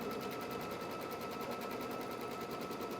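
A Brother sewing machine quilts through a layered quilt sandwich, giving a steady, fast, even mechanical whirr that runs close and loud the whole way with no pauses and no talking.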